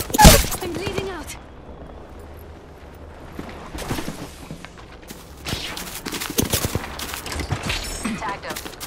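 Video game gunfire from enemy shooters, with a sharp shot at the start and then rattling bursts and crackling volleys under a steady bed of game noise.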